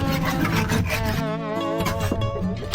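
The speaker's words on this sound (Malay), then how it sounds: "Sekarang potong bulu dulu" Bamboo being cut for lemang at an outdoor family gathering, a steady rasping, scraping stroke that runs continuously and close by, with music playing underneath.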